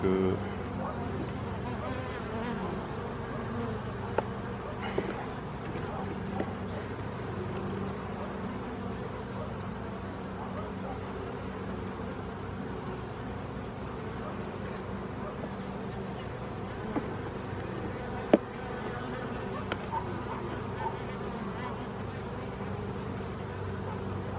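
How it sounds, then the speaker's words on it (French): A dense, continuous hum of many calm honeybees buzzing close by at an open hive, steady and moderate in level, with a few faint clicks and soft background murmurs. "Les abeilles sont très calmes"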